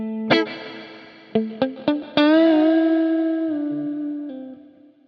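A sharp instrument note rings out, followed by several quick plucked hits and one long sustained tone, each passing through a chamber reverb from the IK Multimedia X-Space plugin and trailing off in a smooth, gradually fading tail.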